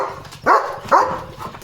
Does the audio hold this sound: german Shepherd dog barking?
yes